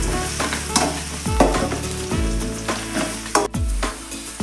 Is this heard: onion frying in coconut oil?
yes